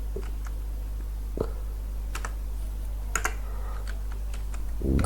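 Someone types on a computer keyboard nearby, producing scattered, irregular key clicks at moderate loudness over a steady low electrical hum, with a slightly louder burst near the end.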